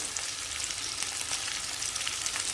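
Potatoes and tomato pieces fry in a pan over a low gas flame, giving a steady, close sizzle and crackle with no pauses and no voices.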